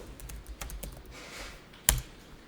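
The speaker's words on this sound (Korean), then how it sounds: "저교에 없는 것은 그냥 이렇게 코드 대신에 직접 타이핑을 하면 됩니다" Keystrokes on a computer keyboard while journal entries are typed into accounting software, a quick run of light scattered clicks followed by one sharper, louder key hit near the end, with no talking.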